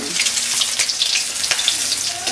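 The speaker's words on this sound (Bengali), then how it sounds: "দেখুন ডিমগুলো আমি লালচে লালচে ভেজে নিয়েছি" Eggs frying in hot oil in a pan, browned to a reddish colour, give a loud, steady sizzle and crackle that runs without a break, with scattered sharper pops and no voices.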